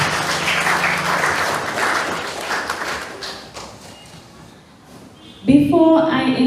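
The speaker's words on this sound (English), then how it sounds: "I just want you to give a round of applause again for the wealth of knowledge" An audience at a youth awards ceremony gives the speakers a round of applause. Dense clapping fills the room, then thins out and fades before a voice comes in at the end.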